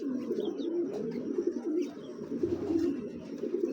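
Cooing from a large pair of old-lineage Beji pigeons, low soft coos repeating steadily and close, with a few faint higher chirps from other birds in the background.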